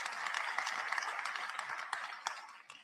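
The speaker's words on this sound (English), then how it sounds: "I think they deserve a round of applause." A hall audience at a national school-exam results announcement breaks into brisk, crackling applause that holds steady, then thins out near the end.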